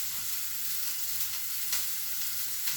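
Burger patties sizzle and fry steadily in a pan, a continuous close crackling hiss with no talking.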